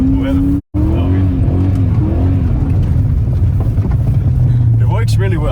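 A BMW M5 E39 driven on winter roads gives a loud, steady engine drone that rises slightly near the end, with voices talking over it.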